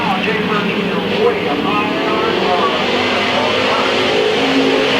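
Race cars roar around the dirt oval at Midvale Speedway in June 1995, a steady loud wash of engine noise from the pack with no breaks, heard from trackside.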